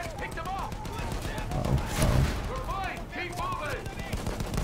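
Bursts of gunfire hit a tank in a Battlefield 1 campaign battle, with rapid repeated shots swelling near the middle amid dense battle noise, and a voice speaking over it.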